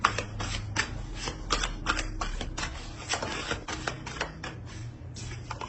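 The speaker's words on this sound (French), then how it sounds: "Je vais rajouter une carte sur la 9 d'épée." Tarot cards are shuffled and handled, giving a rapid series of crisp, close riffling flicks and soft slaps in quick succession, with no talk.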